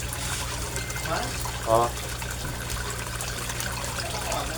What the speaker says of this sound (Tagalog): ang lakas-lakas niyang mag-bubbles